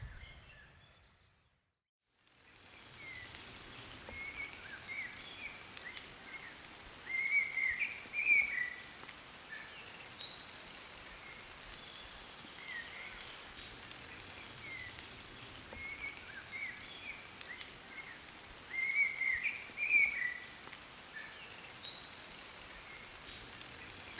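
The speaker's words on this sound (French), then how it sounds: "Sous la douce caresse de la pluie" Rain falling on the ground outdoors, a soft, steady patter of drops that stays faint and even throughout, with occasional chirping birds in the background after a brief silent start.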